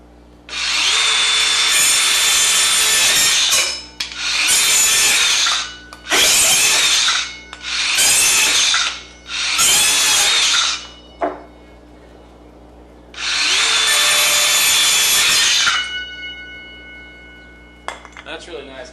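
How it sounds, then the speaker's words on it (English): A DeWalt Atomic 4.5-inch cordless circular saw cuts half-inch board outdoors on a farm, with six loud, sustained whining bursts of two to three seconds each separated by short pauses, then a faint trailing rattle. "we'll cut some of this 1/2 inch board"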